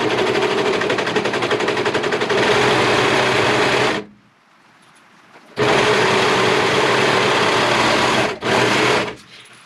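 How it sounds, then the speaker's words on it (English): A serger stitches two pieces of fabric together, its rapid mechanical chatter running loud and steady for about four seconds, pausing, then resuming in two more close bursts. "I'm gonna put this in my serger."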